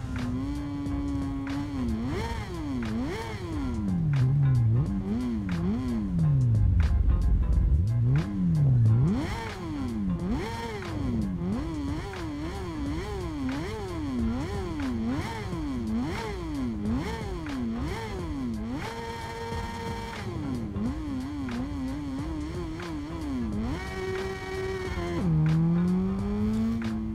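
Modified Kawasaki Ninja ZX-10 in the Ride 5 video game, its engine screaming up and down through rapid gear changes and constant throttle sweeps, loud and continuous with no talk.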